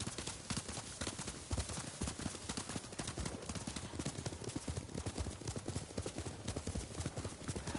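Horses gallop in a video game set on Tsushima, their hooves pounding in a rapid, continuous clip-clop rhythm that stays loud and close across the whole stretch, with faint voices underneath.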